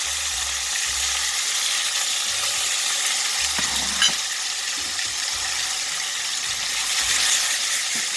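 Salmon fish frying in mustard oil in a pan for a Bengali fish curry, giving a steady, close hiss and sizzle throughout, with a few faint stirring and scraping clicks and no talking.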